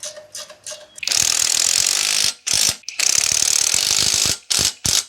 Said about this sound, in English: Now all I got to do is tighten down the ball joint and 2 lower strut bolts.